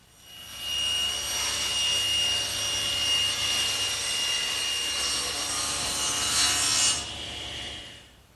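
A saw rips a sheet of plywood lengthwise into a strip, a loud, steady, high whine cutting for about six seconds before the blade spins down, close up with no talking.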